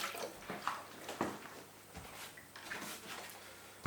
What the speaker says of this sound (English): I'll just wash the eggy bits off my hands.